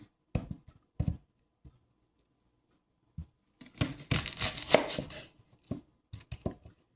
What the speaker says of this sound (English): Alright, so I'm gonna chop this in half.